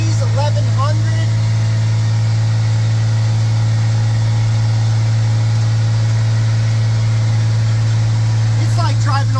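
A Cummins 5.9 12-valve diesel pickup truck, boosted to about 15 psi, drives along with a steady, loud low engine drone throughout, and brief voice sounds near the start and end.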